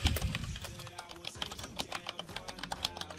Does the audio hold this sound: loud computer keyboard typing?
yes